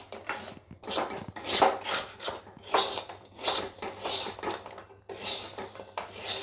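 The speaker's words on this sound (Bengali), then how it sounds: "এবার খালি এইভাবে নাড়তে থাকতে হবে, নাড়তে নাড়তেই সুন্দর শুকিয়ে যাবে।" Sugar-coated angul goja being stirred in a pan with the flame off, a spoon scraping and rattling against the metal in uneven bursts, with brief pauses between strokes.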